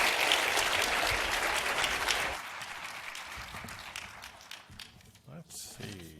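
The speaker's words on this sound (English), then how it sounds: "Let's give Jeff a round of applause" Audience applause at an Economic Club of Indiana luncheon for the departing speaker, a dense burst of clapping for about two seconds that thins out into scattered claps and faint chatter.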